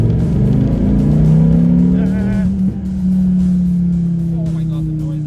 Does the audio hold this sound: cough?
no